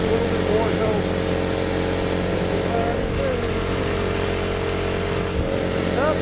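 A go-kart with a Predator 212 engine runs hard at full throttle down a country road, its loud, close, steady drone continuing with no break.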